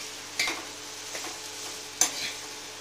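Chopped spring onions stir-fried in a pan for veg manchurian, a soft continuous sizzle broken by two sharp scraping strokes of a spatula, close and without talking.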